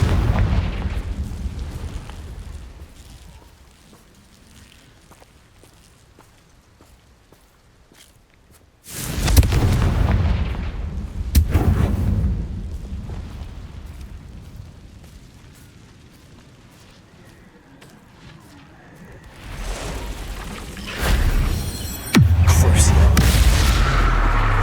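Fiery Confringo spell blasts in Hogwarts Legacy go off as heavy booms over a quiet battle backdrop, with several loud explosive hits and rumbling tails spread across the scene.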